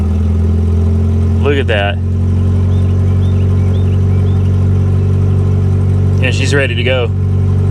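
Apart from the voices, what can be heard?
Plymouth Colt engine idling and revving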